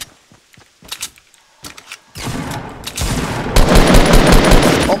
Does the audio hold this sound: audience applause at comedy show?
no